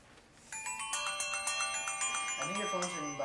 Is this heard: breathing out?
no